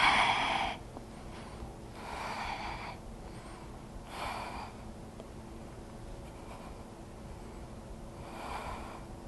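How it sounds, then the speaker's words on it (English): Slow, deep breaths are taken during a yoga wheel pose, Urdhva Dhanurasana. Close, soft inhales and exhales recur every couple of seconds in a quiet room. "and breathe"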